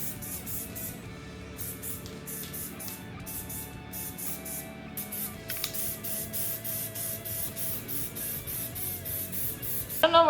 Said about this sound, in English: I'm spraying very, very far away because the further away you are,